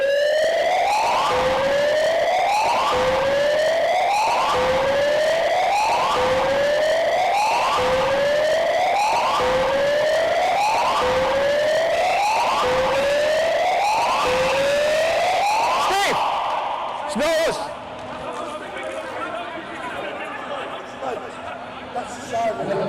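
A rising-and-falling electronic alarm wails in a sports centre during a Hereford Harriers versus North Wales Crusaders rugby league match, repeating in steady loud sweeps for about sixteen seconds before cutting off, leaving crowd noise and a voice speaking.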